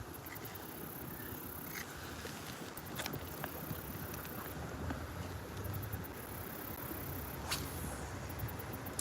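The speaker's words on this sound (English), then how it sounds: "So now the wind's coming right at us." Wind blows at a creek shoreline during a fishing outing, a steady broadband rush with buffeting on the microphone and faint scattered taps, continuous throughout, with no talk.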